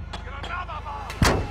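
A grenade explosion in the mobile shooter Warzone Mobile lands as one loud, close boom near the end, following quieter bursts of game noise.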